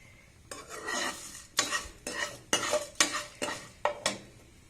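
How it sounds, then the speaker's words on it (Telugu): Spatula scraping and stirring in a pan with a crackly sizzle as urad dal, cumin, mustard seeds, curry leaves and turmeric fry in hot oil, in repeated strokes roughly every half second, close and fairly loud, no voices. "ఆవాలు కరివేపాకు పసుపు అన్నీ వేసి దోరగా వేయించండి"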